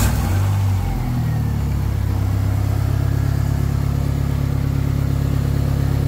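A car engine is started by bridging the starter relay and then revved, running loud and close with a steady rumble that continues to the end, with no talking.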